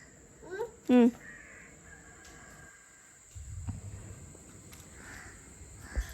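A crow gives one loud, close caw, followed by quieter background with faint voices and a soft insect hum.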